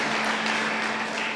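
An audience applauds performers at a stage show, a dense, steady wash of clapping that holds evenly throughout with no voices over it.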